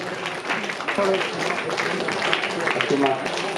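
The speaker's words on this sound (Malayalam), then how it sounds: "കൈയടിക്കുക" An audience at a charitable trust's talent-recognition gathering applauds award recipients with steady, dense clapping from many hands, while a voice speaks over it.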